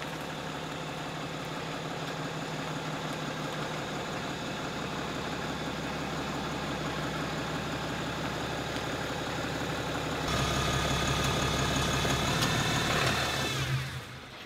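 A Ram 2500 pickup truck engine idles nearby in a steady, even rumble, stepping up to a louder, rougher level for a few seconds near the end before settling; no talking.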